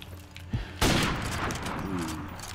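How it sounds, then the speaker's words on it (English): Gunfire in Modern Warfare Remastered: after a short knock, a loud burst of shots erupts and continues as a dense, sustained fusillade with ringing echoes, near and dominant, with no talk. "I was shooting through the window."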